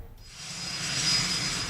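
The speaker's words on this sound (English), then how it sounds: "The first KLM plane to land at Manston, flying the Dutch and Kent Invicta flags." A KLM airliner lands at Manston airport in Kent, its jet engines building to a loud, broad roar that swells and holds steady, heard close with no voices over it.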